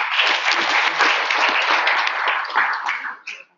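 A conference audience applauds warmly as speaker Tim Gentle is welcomed, a dense, sustained wash of many hands clapping that fades out in scattered final claps.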